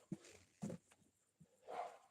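Several sharp dog barks outside a cemetery, fairly distant and intermittent, with short gaps of quiet between them.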